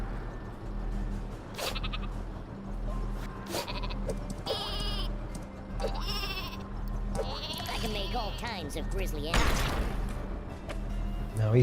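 Cartoonish sheep weapon bleating repeatedly in the video game Worms WMD, several wavering bleats over continuous game music with a commentator talking throughout and a thump near the end.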